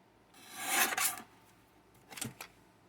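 A chopper cutter slices through material in two short, crisp bursts, the first longer and louder, the second a quicker double cut, close and alone.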